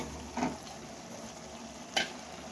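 Potatoes tossed into mutton frying in oil for a dhaba-style mutton kosha, with two short scraping stirs in the pan over a steady low sizzle.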